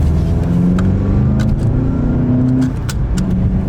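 A 2017 or 2018 Volkswagen GTI engine drones loudly and close up, its pitch climbing in steps as it accelerates, with a few faint clicks on top.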